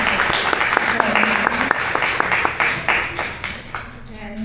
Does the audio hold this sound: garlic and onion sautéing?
no